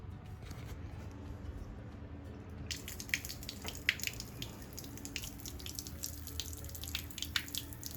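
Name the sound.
water draining from RV low point valves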